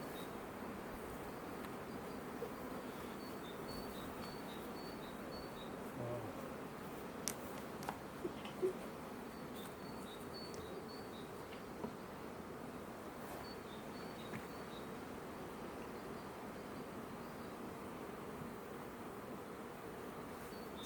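Steady, faint buzzing of many Ukrainian steppe honeybees at a hive fills the background, a continuous hum with a few small clicks and taps scattered throughout.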